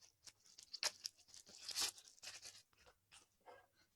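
Packaging for a Mi Power Bank 3i being torn open up close, a quiet series of crisp tearing and crinkling bursts in uneven rhythm with no speech.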